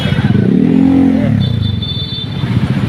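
A motorcycle engine runs close and loud, its revs rising and falling in a short rasping surge before settling back to a chugging idle.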